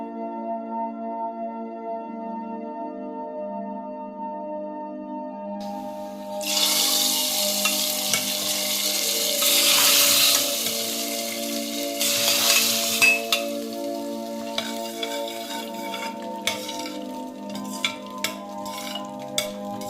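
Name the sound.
potato fry cooking, stirred with a ladle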